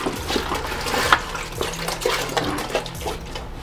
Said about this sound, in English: Whole gallon, whole thing, right in there,